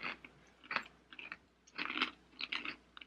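Someone crunches and chews a crisp keto Parmesan cheese snack close up, with several bursts of biting and munching separated by short pauses and no talking.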